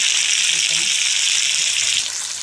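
Chopped tomato dropped into hot oil tempering with onion and green chilli, giving a steady, close hiss of sizzling that fades slightly toward the end, with no talk over it.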